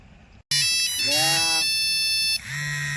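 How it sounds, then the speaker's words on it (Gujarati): A mobile phone ringtone in a Gujarati comedy sketch plays loudly up close, a bright electronic melody of repeating tones that keeps going after a short silent gap at the start. "ચલો ફોન આવ્યો પાછો"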